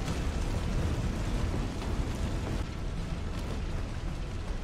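A big fire burns in Resident Evil 3 Remake with a dense, continuous roar and crackle that stays loud and even throughout, with no pauses.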